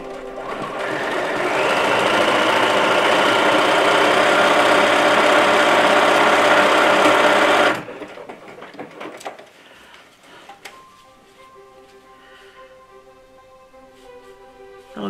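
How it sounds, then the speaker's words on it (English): A sewing machine runs a blanket stitch across a leftover scrap of jeans fabric, a loud, continuous mechanical whir lasting several seconds before cutting off abruptly into quiet handling sounds and faint clicks. "do a little bit of a blanket stitch on here and see"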